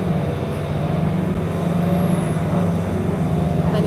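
Inside a TTC bus as it accelerates hard, a loud continuous engine drone with steady low hum and whine, close and sustained over the whole stretch, without talk.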